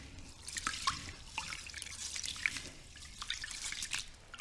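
Clear water running and dripping into a bowl of mixed glutinous, pearl and Thai fragrant rice being rinsed for soaking, with irregular splashes and trickles at close range throughout, no voices.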